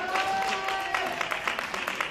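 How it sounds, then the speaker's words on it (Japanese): Dinner show crowd in a Yokohama hotel banquet hall applauding a performer, a dense, steady wash of clapping lasting a couple of seconds, with a faint sustained tone running beneath it. "拍手。"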